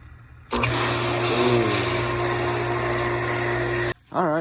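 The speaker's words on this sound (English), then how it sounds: "I'm gonna slowly crack this ball valve so we can see at what point does that pump turn on" A water well pump switching on as a ball valve is slowly cracked open after a pressure switch replacement, a sudden loud steady motor hum with a sustained whine that runs for several seconds, then cuts off.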